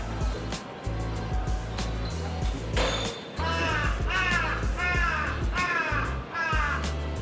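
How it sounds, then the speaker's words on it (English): Several crows caw loudly and repeatedly in Tokyo at night, harsh calls coming in quick bursts of two or three, close by over a steady low traffic rumble. "Bro, these crows are crazy."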